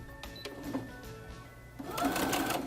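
A sewing machine runs close by, stitching a half-inch seam in a steady mechanical whir with a brief pause, then picking up louder and faster toward the end.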